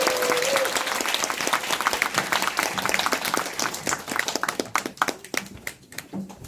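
Sustained crowd applause fills a Korean BES speech seminar hall: dense, continuous clapping from many hands, loud at first and thinning slightly toward the end.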